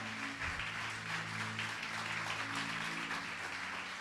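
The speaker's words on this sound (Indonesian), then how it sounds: "Berikan tepuk tangan buat Tuhan." Worshippers at a church service clap together in a steady, even wash of applause, a low electrical hum running beneath the continuous clapping.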